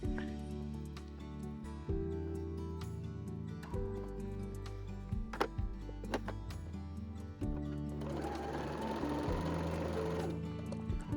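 Sewing machine chain piecing quilt pieces, its motor running in short bursts with starts and stops, close and moderately quiet, with a louder busier stretch of stitching toward the end.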